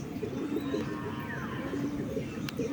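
Pigeons landing at a house call with low, repeated cooing coos in a soft rhythmic pattern at moderate distance, over faint background hum and no talk.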